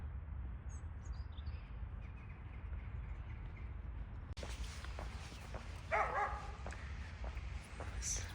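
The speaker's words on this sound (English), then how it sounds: "This dog is barking over there." A dog barks outdoors by the harbour in Malmö in autumn, a few faint distant barks over wind and ambient outdoor noise.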